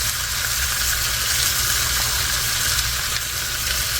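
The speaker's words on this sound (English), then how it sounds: "And I'm gonna add in some of those green onions. Let them cook along with the tomatoes." Green onions and tomatoes fry in a pan with a steady, dense sizzle that holds constant and loud throughout, with no talking.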